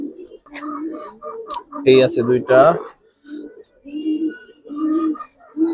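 Young pigeon chicks of a Giribaz and colouring breed, some silver Bagha, give short throaty coos mixed in among steady nearby conversation, with one brief louder burst of cooing in the middle.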